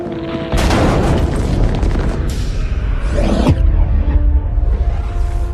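A large blast with a roughly 500-kiloton TNT equivalent: a sudden loud boom that swells into a long, dense roar and rumble, with a sweeping whoosh partway through, sounding alone.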